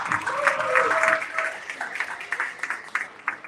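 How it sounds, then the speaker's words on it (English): A gathering applauds a speaker at a personal-development event, clapping that starts full and then thins into scattered, uneven claps, with a brief voice and some crowd murmur mixed in near the start. "Give her another round of applause."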